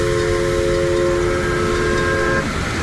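A live steam locomotive at a live steamers' meet sounds a loud, steady whistle holding several tones over rumbling rail noise, then cuts off near the end while the chugging continues.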